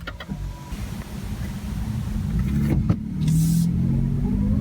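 A Toyota Prius Prime pulls away and starts to drive, its low engine and road rumble rising steadily, with a brief whir partway through, loud and close inside the car.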